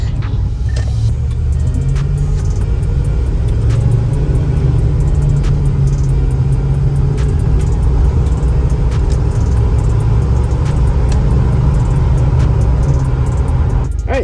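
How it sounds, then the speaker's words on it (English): A 1996 Ford E-350 van drives along the road. Its engine hum and low road rumble are loud and steady, heard from inside the cab with faint rattles and no voice. "So it's driving really good,"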